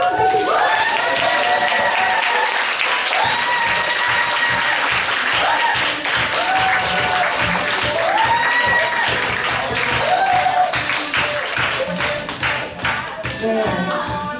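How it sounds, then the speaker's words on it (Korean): Loud, sustained applause from a seminar audience welcoming a silver-director lecturer at a company and product presentation, with music playing along and voices mixed in, fading slightly near the end. "실버 디렉터 우리 김양 강사님 나오시는데 큰 박수 부탁드립니다"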